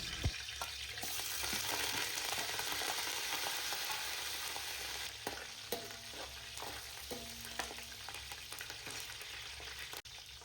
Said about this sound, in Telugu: ఆయిల్ హీట్ అయిన తర్వాత మనం పక్కన పెట్టుకున్న తాలింపుని వేసి గోల్డెన్ బ్రౌన్ వచ్చేంత వరకు వేపించుకోవాలి